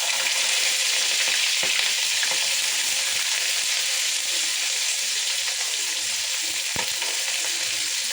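Onions and lentils (urad dal) frying in oil in a pan, a steady loud sizzle with occasional stirring scrapes, no talk.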